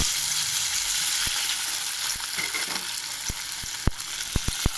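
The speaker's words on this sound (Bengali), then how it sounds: "তো তেলটা গরম হয়ে গেছে, মাছগুলো এক এক করে ছাড়বো" Small whole bele fish (sand goby) sizzling in hot oil in a pan, a loud continuous frying hiss broken by several sharp pops and clicks, with no voices.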